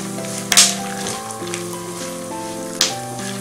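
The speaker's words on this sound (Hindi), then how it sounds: "अब हम इसमें सींग डालेंगे अब हम इसमें चने की दाल डालेंगे मिक्स कर लेते हैं" Peanuts and chana dal frying in a pan with a steady close sizzle, broken by two sharp scraping bursts of stirring, while sustained music-like tones run underneath.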